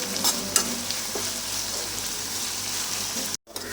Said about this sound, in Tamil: இப்போ இந்த ஆனியனை நல்லா ஃப்ரை பண்ணி எடுக்கலாம்